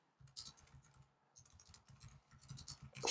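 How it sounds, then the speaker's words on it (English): Quiet, close typing on a computer keyboard, a quick irregular run of soft key clicks with a brief pause partway through. "if I can type correctly"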